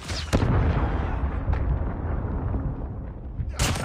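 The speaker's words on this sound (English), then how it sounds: "missile inbound" A missile strike explodes in Call of Duty Mobile multiplayer, a loud deep rumbling blast that rolls on for several seconds. Sharp gunshot cracks pop over it near the start, and a bright burst lands at the end.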